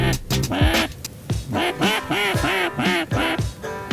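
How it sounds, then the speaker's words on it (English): Mallard ducks quack repeatedly in a steady series of loud, close calls that overlap, heard alone with no talk. "You guys check out this duck footage."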